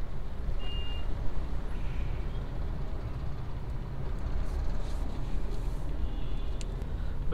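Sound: light road traffic on a flyover

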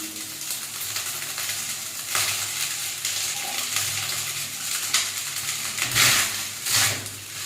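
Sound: vegetables frying and being stirred in a pan

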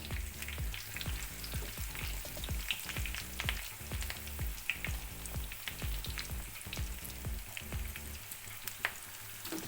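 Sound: chicken frying in hot oil with curry leaves

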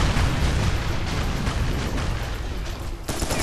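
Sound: heavy artillery explosions in video game Serious Sam 3 BFE

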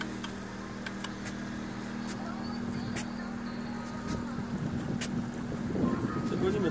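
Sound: raft sailing on river with wind

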